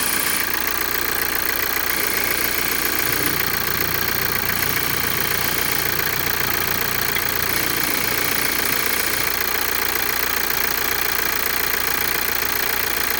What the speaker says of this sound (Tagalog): yan talaga yung tunog ng CRDI